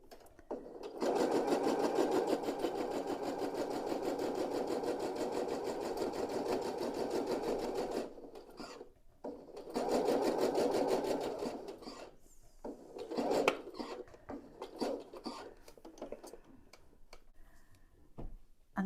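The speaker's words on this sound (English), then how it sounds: "Place one on this side and go and sew it down with a 1/4 inch seam allowance." A sewing machine stitches a quarter-inch seam on a scrap-fabric pineapple quilt block in several runs, a close, steady whirring rattle broken by brief pauses and a few slower, stuttering bursts near the end.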